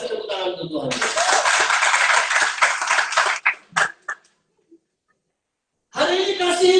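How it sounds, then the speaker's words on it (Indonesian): A church congregation at a sermon claps hands together in a dense burst of applause for several seconds, which then tapers into a few scattered claps and silence before a voice resumes. "Yang muda-muda kasih tepuk tangan untuk Tuhan."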